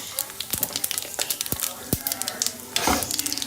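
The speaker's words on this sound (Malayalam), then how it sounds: "സാധാരണ സൺഫ്ലവർ ഓയിലാണ് ഒഴിച്ചിട്ടുള്ളത് അതിലേക്ക് ഒരു മുക്കാൽ ടീസ്പൂണോളം ചെറിയ ജീരകം ഇട്ട് കൊടുക്കുന്നുണ്ട്" About three-quarters of a teaspoon of cumin seeds sizzles in hot sunflower oil in a pan. The sound is a steady close crackling hiss with sharp little pops and scraping stirs throughout.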